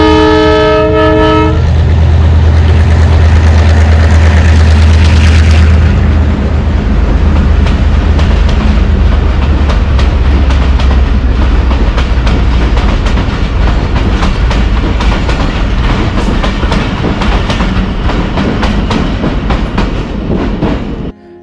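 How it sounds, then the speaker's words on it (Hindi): The Jand passenger train passes close by near a railway tunnel on the Attock line, opening with a loud multi-tone horn blast and then a long, steady rumble and clatter of wheels and coaches. "इस ट्रेन को हमने पहली टनल के ऊपर से कवर किया।"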